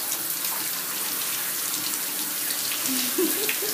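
Shower water runs steadily onto a Rottweiler standing in a bathtub, a continuous close hiss of spray with faint splashes near the end.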